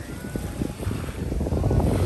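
Gusty wind buffets the microphone on the Amalfi Coast beside the sea, a steady low roar that swells and grows louder toward the end, with surf faintly mixed in and no voices.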